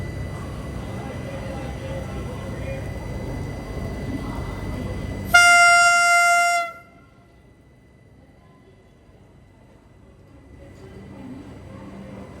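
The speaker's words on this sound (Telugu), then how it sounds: "వందే భారత్ బయలుదేరింది." Vande Bharat Express train pulling away outside a station cabin in India, a loud steady horn blast for about a second and a half over rumbling rail and crowd noise, then the scene drops to a quiet murmur.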